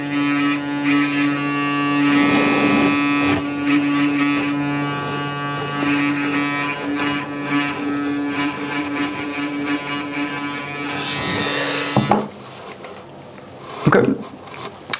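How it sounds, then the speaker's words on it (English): An Oral-B Series 10 electric toothbrush runs with a loud, steady high-pitched buzz that drops away near the end, leaving quieter handling noise. "So you can see it's going to start brushing right now."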